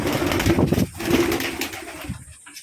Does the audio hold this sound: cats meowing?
no